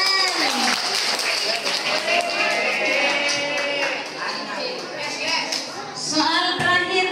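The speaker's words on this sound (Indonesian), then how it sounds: "Tepuk tangan." An audience at a school quiz competition claps, a lively burst of applause mixed with crowd noise and voices talking over it.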